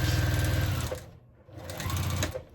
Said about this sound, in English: I'm just going to come and give it a back stitch.